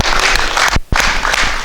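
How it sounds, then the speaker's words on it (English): A crowd of people clapping their hands loudly and continuously, with a brief pause partway through. "Give a hand clap for our families, man."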